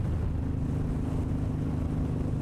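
2007 Suzuki M109R motorcycle with an aftermarket exhaust running at high RPM with the exhaust quieted, a steady, muffled low engine drone that holds constant throughout.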